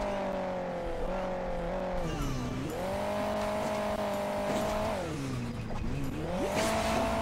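A sports car races in the mobile game Hill Climb Racing 2, its engine droning steadily and rising and falling in pitch as it revs. The engine stays loud and continuous throughout, with no talking over it.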